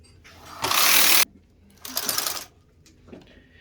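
A knitting machine carriage is pushed across the needle bed of a chunky-knit garment in two loud, rasping sweeps with short pauses between.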